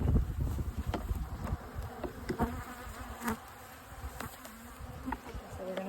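Honey bees buzz close at an opened hive during a February inspection, a dense continuous drone with individual bees whining past the microphone and a few soft knocks and handling noises.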